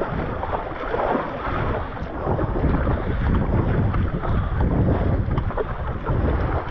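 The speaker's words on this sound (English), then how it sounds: "this is about a 12 knot wind" Steady wind buffeting the microphone while downwind surfing on a stand-up paddle board in a roughly 12 knot breeze on open water without whitecaps, loud and continuous with a constant rush throughout.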